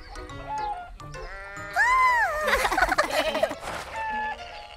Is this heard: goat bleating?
yes